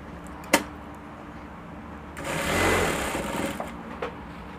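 A sewing machine hems the bottom of a kaftan gown, with a sharp click early on, then a short burst of close, whirring stitching that swells and fades, ending with another small click.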